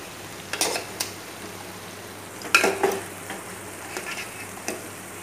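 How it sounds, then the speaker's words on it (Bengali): Spice paste for mutton curry is sautéed in a pot with a low, steady sizzle, punctuated by several sharp clinks and scrapes of a metal spoon against the pot. "আর এদিকে পাশে মশলাটা অনবরত কষানো হচ্ছে।"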